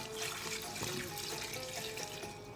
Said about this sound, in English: To this, I'm going to add 4 cups of water.